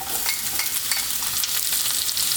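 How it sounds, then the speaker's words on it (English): Red onion goes into a hot stir-fry pan with Chinese cabbage and vegetables, setting off a loud, close, steady sizzle with crackling spits and stirring scrapes. "Now we're going to add the onions."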